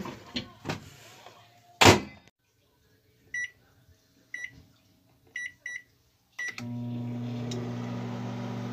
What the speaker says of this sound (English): What should I put in the microwave?